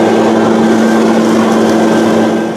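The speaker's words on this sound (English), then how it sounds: "before I fire up the leaf blower" A small two-stroke leaf blower engine drones steadily and loudly at a constant pitch for the whole stretch outdoors at a wooded camp, easing off only slightly at the very end.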